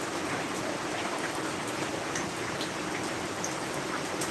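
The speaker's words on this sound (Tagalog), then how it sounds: "Biglang iitim yung panahon, tapos lalakas ang ulan." Heavy rain pours down in a dense, unbroken hiss, loud and steady throughout with no voices over it.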